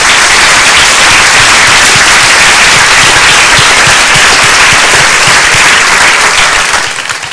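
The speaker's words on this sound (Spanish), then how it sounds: "Dale un fuerte aplauso al Señor." A church congregation gives loud, sustained applause during a Spanish-language sermon. The dense clapping is close and continuous and tapers slightly at the very end.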